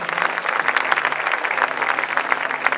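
A crowd gathered in a town square for an Olympic champion's celebration applauds the mayor, with steady, dense clapping throughout and a faint murmur beneath.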